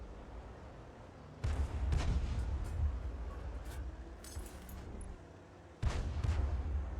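Two heavy booms of a 105 leFH18B2 howitzer firing HE rounds in a video game, one early and one late, each followed by a rumbling tail over steady background battle noise.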